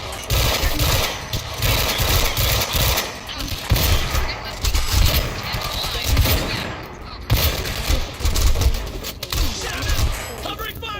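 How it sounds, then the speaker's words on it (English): Sustained rapid gunfire from Quantum Break, with loud repeated bursts and volleys echoing in close succession, mixed with shouted voices over the shooting. "Covering fire!"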